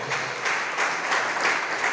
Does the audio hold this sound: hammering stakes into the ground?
no